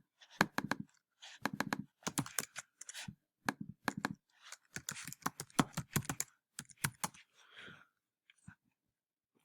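Rapid bursts of keystrokes on a computer keyboard while entering a username and password, clattering in quick clusters with short pauses between, close and clear with no talking.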